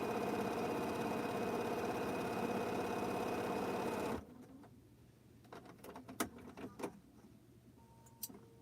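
A sewing machine runs a final quilt seam in a steady, close burst for about four seconds, then stops, leaving quiet room sounds and small handling clicks and rustles.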